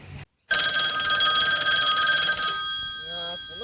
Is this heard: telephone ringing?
yes